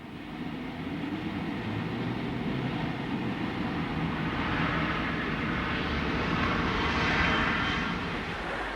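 Military aircraft fly during the Gulf War air offensive, a sustained engine roar that builds slowly and peaks near the end as a jet passes, with no talk over it.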